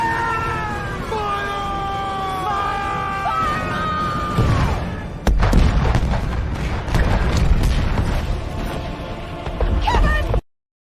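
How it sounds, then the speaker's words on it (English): A novelty cannon sound effect fires repeatedly on a sports talk show: a burst of booming blasts and crackling noise follows a stretch of harmonic, meow-like tones, loud and dense for several seconds before cutting off. "Fire the cannons."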